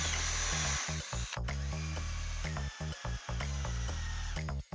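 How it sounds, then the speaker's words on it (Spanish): Screws being driven with a power drill into a wooden bar frame for a terrace, several loud whirring bursts in quick succession with short pauses between, close up and with no talking. "se hacen los agujeros y se atornilla."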